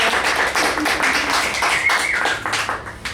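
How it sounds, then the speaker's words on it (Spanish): A small church class audience claps for a woman who recited from memory, an uneven patter of hands with a few voices mingling, close and moderately loud. "Un aplauso a la hermana."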